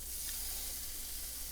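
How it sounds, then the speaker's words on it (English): Onions and cilantro sizzle steadily in hot butter in a pan, a soft continuous hiss with no talking. "Remember I said I was going to be frying the onions here?"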